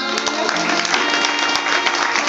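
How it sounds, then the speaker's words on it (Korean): Applause from the audience at a wedding as a celebratory song performance begins, a dense, loud, steady clatter of many hands filling the room for a couple of seconds. "뜨거운 박수 부탁드립니다"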